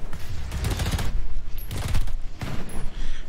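Rapid bursts of gunfire from the video game Earthfall, several dense volleys of shots close and loud in a steady run with short gaps between them.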